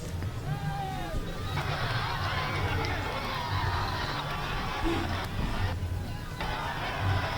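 Supporters of Arnab Goswami gather in a noisy crowd celebrating his release from jail, with a dense steady hubbub of many voices, shouting and movement running throughout.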